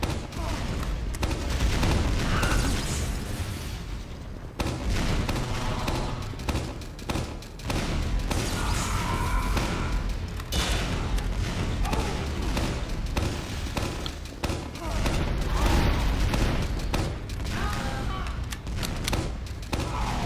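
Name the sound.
grenade explosions from the Demoman in the video game Team Fortress 2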